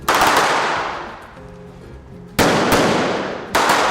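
Airsoft guns fire blanks during a staged shootout on the film set of a James Bond movie: three loud, sharp reports, the first fading slowly, the next two coming close together after a quieter gap.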